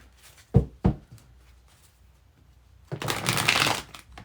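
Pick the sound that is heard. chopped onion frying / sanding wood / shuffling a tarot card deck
shuffling a tarot card deck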